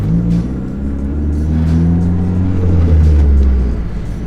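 Car with solid motor mounts on the road, heard from inside the cabin as a loud, deep engine drone with strong low-end rumble and vibration. The pitch rises slightly as it drives.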